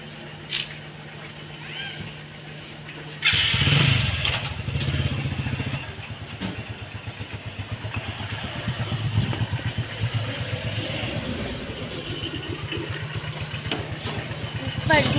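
A motorcycle starts up and idles with a steady mid-pitched thrum while being taken out, close by, with people talking over the engine.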